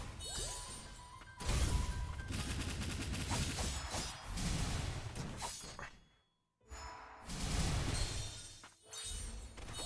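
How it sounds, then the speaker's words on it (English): Video game explosion in Ender Magnolia: a loud, dense burst of crashing, crackling debris and rumbling impacts filling most of the stretch, broken by a brief silence before another blast-like surge. "The explosion there is actually coming in a whole lot later than I thought it would."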